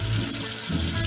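Running water rinses soap away in a sink, a close, continuous splashing hiss from a tap with no voices.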